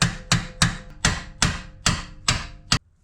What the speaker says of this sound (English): I'm going to switch to this chisel